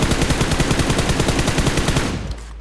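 Rapid bursts of automatic gunfire in a mobile shooter game, played while testing sensitivity settings with no grip attachment, loud and continuous for about two seconds before cutting off abruptly.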